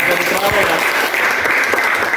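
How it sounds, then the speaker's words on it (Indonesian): Students in an Indonesian classroom clap together, a steady dense patter of hands lasting a couple of seconds with some voices mixed in. "Oke, tepuk tangan buat kalian"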